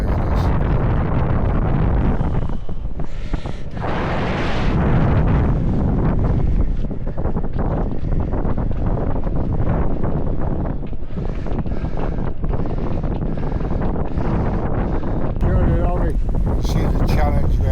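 Strong storm wind batters a microphone at a riverside sailing club during Storm Amy, a loud continuous roar with gusty surges throughout, boats and rigging rattling beneath.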